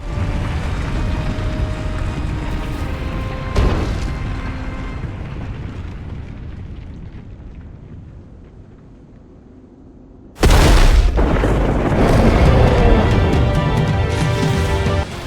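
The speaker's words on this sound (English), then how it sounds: "The arena starts shaking, and Dracula transforms into his final form." A dense, loud rumbling roar fills the Dead Cells arena as it shakes during Dracula's transformation. It thins and fades for several seconds, then bursts back in with a sudden heavy boom and keeps churning.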